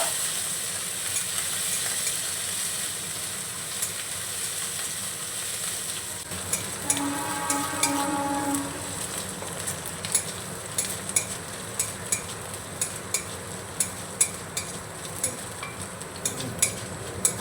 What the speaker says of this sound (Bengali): আদাটাকে একটু মশলার সঙ্গে নাড়িয়ে নেব।